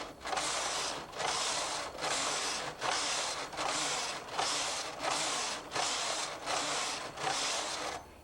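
Punch card knitting machine carriage passing back and forth, about nine regular whooshing, rattling strokes each lasting roughly a second with brief pauses, close and fairly quiet, no talking.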